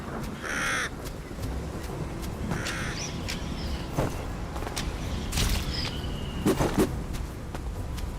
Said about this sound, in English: They're Hell's Ravens.